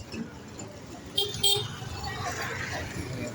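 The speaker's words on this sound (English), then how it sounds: "Here is the auto coming. He's honking." Auto rickshaw at Kalkaji railway station giving two short honks close by amid street traffic and people talking.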